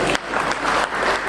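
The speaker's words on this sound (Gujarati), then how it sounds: "આવી રીતે તાળીઓ પાડી." Audience at a poetry book launch clapping together, a short dense burst of applause close by with a brief dip partway through.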